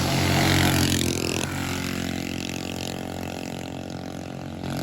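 A Coleman 200 U-EX minibike engine running close by with a loud, buzzy mid-pitched drone that revs high at first, then drops to a steadier lower idle, with no voices.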